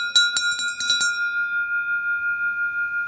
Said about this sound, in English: So, bear bell.